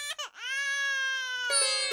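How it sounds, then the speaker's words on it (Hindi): An infant cries in a sustained, wavering high wail that breaks off, sobs briefly, and resumes loudly and close, with no other sounds. "ये तो बच्चे की रोने की आवाज है।"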